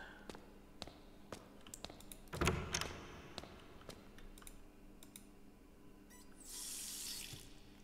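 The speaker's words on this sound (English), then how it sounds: "Oh good, the water runs up here." Tap running water in a bathroom in the horror game Night Security, faint clicks and knocks giving way to a soft steady hiss of flowing water near the end.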